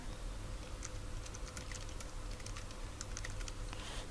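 Quiet, steady tapping of keys on a computer keyboard while typing a CV in MS Word, a soft irregular patter of clicks over a constant low background hum.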